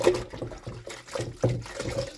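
Water is poured from a container into a large toilet bowl in a series of splashing gushes and gurgles, close and moderately loud, with no talk.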